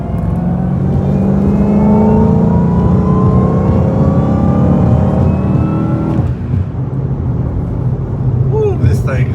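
A Shelby GT500's engine pulls hard under acceleration on a drive, rising in pitch through several gear pulls as a loud, steady drone from inside the car, easing off near the end.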